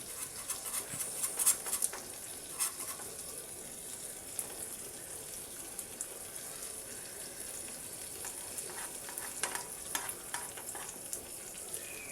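Fish pieces fry in a pan for a roast, giving a soft, steady sizzle with occasional light clinks and scrapes as they are turned, and no one talks.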